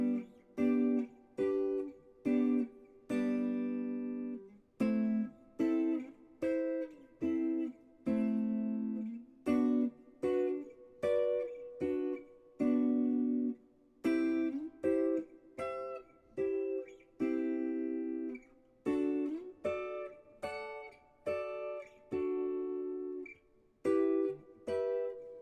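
Clean guitar plays triads and their inversions one after another up the neck, each a short ringing three-note voicing stepping steadily upward, with brief gaps between them and no talking.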